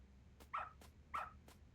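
A dog in the video game Lost Judgment gives two short, quiet barks about half a second apart, set among faint soft thumps over a low background hum.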